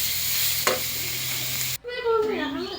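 Batter for fried pitha frying in a pan, a steady close sizzle that runs for nearly two seconds before cutting off abruptly, followed by quieter cooking and stirring sounds.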